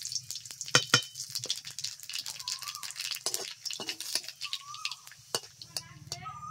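Dried red chillies and nigella seeds crackle and sizzle in hot mustard oil in a kadai, with sharp pops and a few light clinks from a utensil against the pan, close and fairly quiet.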